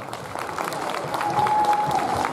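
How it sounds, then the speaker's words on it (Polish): A crowd at a charity fundraising event applauds in a broad, continuous wash of clapping. A faint tonal whistle rises over it near the end. "brawa dla Was"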